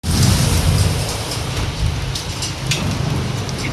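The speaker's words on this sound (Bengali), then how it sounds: "ঝড় বৃষ্টি, প্রচণ্ড ঝড় বৃষ্টি" A heavy thunderstorm brings loud, steady rain with a constant dense hiss and a low rumbling roar underneath, close and continuous throughout.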